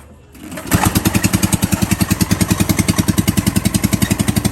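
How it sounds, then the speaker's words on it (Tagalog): A small boat engine starts up and settles into a loud, steady, rapidly pulsing chug close by, pushing the boat out through water lilies in the early morning. "Pinaandar na nga ng buyo ko ang makina para kahit papaano naman ay makatulong sa aming paglabas"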